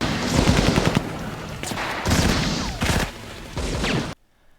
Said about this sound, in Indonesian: Saat para gangster dan pasukan SWAT sedang asik baku tembak